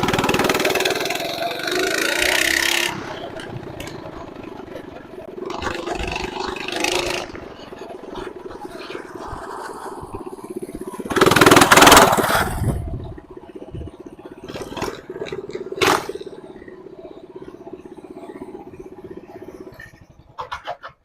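An engine idles loudly with a rough, uneven exhaust rumble, swelling in a few revving surges and occasional sharp pops.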